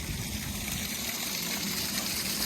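Water from a hose gushes steadily while rinsing an Intex above ground pool, a constant close rushing splash with no talk.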